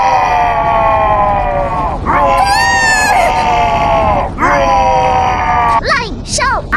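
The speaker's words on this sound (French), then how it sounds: "ce sont des pommes hurleuses" Animated fantasy screaming apples waking up: several shrill, wavering cartoon shrieks and groaning wails rise and fall in quick bursts, loud and close, overlapping one another with no talk.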